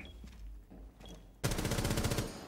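In a first-person shooter video game, enemy gunfire aimed at the player breaks out in a sudden loud rapid burst after a quieter stretch of footsteps and movement.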